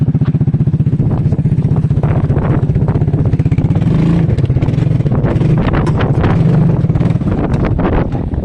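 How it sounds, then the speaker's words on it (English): Strong wind buffets the microphone outdoors in a small yard, a loud continuous rumbling roar with gusty bursts, while a Suzuki LTF 250 cc 4WD QuadRunner's engine drones steadily underneath throughout. "Fucking wind."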